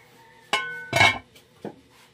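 Metal cooking pots clink and clatter as they are handled, three distinct close knocks with a ringing metallic tone, the middle one loudest, with no talking.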